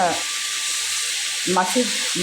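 Chopped tomatoes sauté with already-softened onions in a pan, giving a steady soft sizzle and hiss, with brief bursts of talk at the start and again near the end.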